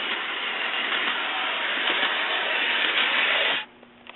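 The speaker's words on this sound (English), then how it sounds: "now this engine's running around just like a normal conventional engine" A model train engine runs steadily around its track, a continuous close hiss and rumble that stays loud for several seconds, then drops away suddenly near the end, leaving quiet room noise.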